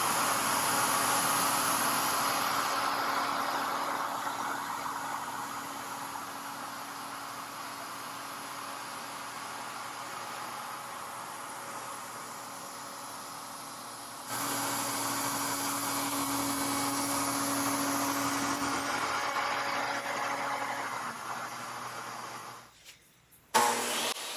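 A CNC machine mills white oak panel sides flat, producing a continuous loud whirring, hissing drone that steps up in intensity partway through, then cuts off with a few clunks at the end.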